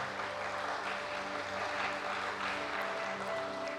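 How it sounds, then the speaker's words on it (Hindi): An audience at a youth meditation gathering at Gyan Sarovar, Mount Abu, claps in a continuous, even wash of applause over a faint steady tonal hum. "एक बार करतल ध्वनि कर लें, तालियां अपने लिए, अपनी सफलता के लिए।"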